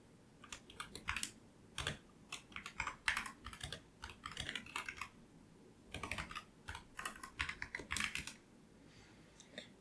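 Fingers type on a computer keyboard while writing C code, producing bursts of quick, close clicks with brief pauses between runs, clear and steady throughout.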